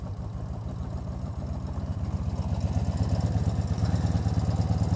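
A motorcycle engine idles just after starting, near and steady, with a rapid low putter that grows slightly louder and rougher toward the end.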